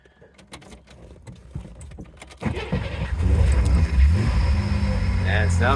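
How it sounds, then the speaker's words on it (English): A 1964 Chevy Corvair Monza convertible's engine fires up and settles into a throaty idle through its exhaust, close and steady after a few quieter clicks and rustles before the start. "man, sounds good. It's Monza exhaust, huh?"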